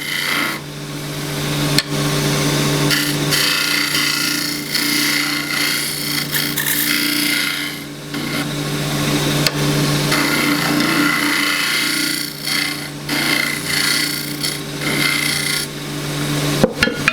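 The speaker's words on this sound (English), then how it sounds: "bowl scraper" A bowl scraper cuts wood on a lathe while turning a small natural edge bowl, giving a continuous loud rasping scrape over the steady hum of the spinning lathe, with brief breaks and no speech.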